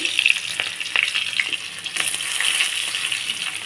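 Onions frying in hot oil in a pan with whole spices, a steady crackling sizzle with sharp pops and stirring scrapes, close and continuous throughout.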